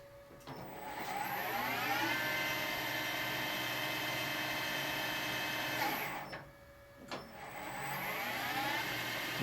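Precision Matthews PM1440GT metal lathe with a VFD ramping up in gear, a steady close whine and mechanical hum that rises in pitch, then cuts out briefly around two-thirds through before spinning up again.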